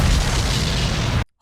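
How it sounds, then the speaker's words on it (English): Bomb Devil explosion effect from the Chainsaw Man movie: a massive, full-bodied boom roaring loud and dense for over a second before cutting off sharply into silence. "you hear like the explosion building up, you hear like everything is in chaos, and it gets quiet for one moment, boom"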